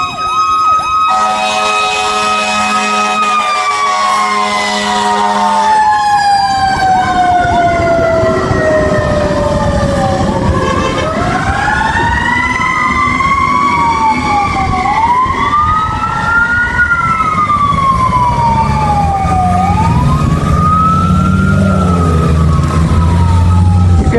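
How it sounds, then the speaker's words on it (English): Fire truck siren wailing as the engine responds to an emergency call, loud and close, sweeping up and down in long cycles with a steady electronic tone early on and rumbling traffic beneath. "That's the fire department. They're going to the emergency."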